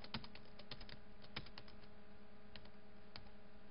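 Code is typed on a computer keyboard as a quiet, close run of rapid key clicks with a few sharper taps, all under a faint steady hum, with no voices.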